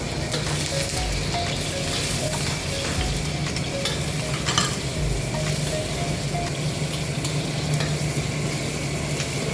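Onions and garlic frying in annatto oil in a pan, a loud, constant sizzle with steady stirring scrapes and occasional small pops running throughout.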